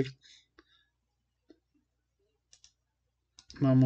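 Computer mouse clicks while working in LabVIEW software, a few sharp faint taps spaced apart in a quiet room, followed by a louder burst at the end.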